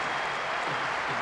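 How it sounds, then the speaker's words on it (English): A stadium crowd in the PES 2010 football video game cheering after a goal, a dense steady roar of applause and noise, with no commentary over it. "A roar of approval from the crowd, if you can call it that, with so many empty seats though"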